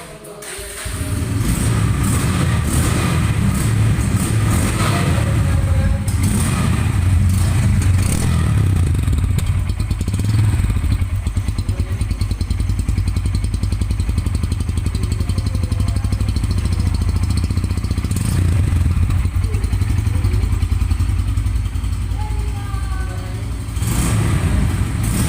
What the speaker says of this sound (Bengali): বাইকটির সাউন্ড কোয়ালিটি কিন্তু খুবই ভালো আছে এবং খুবই স্মুথ আছে।